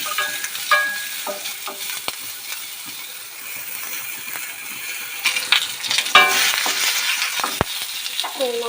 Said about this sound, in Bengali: আমগুলো একটু ভালো করে ভেজে নিতে হবে।